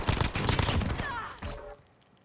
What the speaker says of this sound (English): the gun that you're holding now, the PP19 Bizon, with 84 rounds in it.